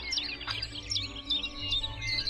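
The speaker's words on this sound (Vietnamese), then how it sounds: "ngày nào cũng được nghe tiếng chim hót như vậy thật thích" Birds chirp and sing around a house in springtime, a lively overlapping stream of high tweets and warbling calls, close and continuous, with no voices.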